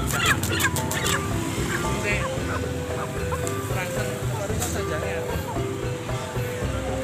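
Three-month-old laying hens, ready to lay, cluck and call at a poultry sale. The chatter is dense and overlapping, with close, sharp calls near the start. People talk underneath.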